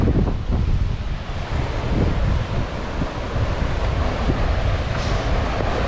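A glacier-fed mountain river rushing downhill near Fitz Roy, a loud, continuous turbulent roar close by, with gusting wind buffeting the microphone.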